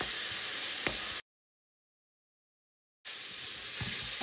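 Curry ingredients for a beef pasanda fry in a pan, giving a steady close sizzle that cuts off into a gap of silence before the hissing resumes.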